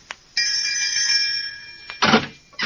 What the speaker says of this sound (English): This must be the doorbell.